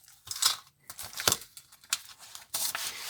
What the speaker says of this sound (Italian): Apriamo il sacchetto,